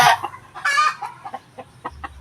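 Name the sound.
chickens clucking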